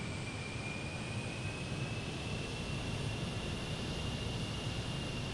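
An airliner's jet engines roar steadily at takeoff in Microsoft Flight Simulator, a constant broadband rush with a thin high whine, with no voices.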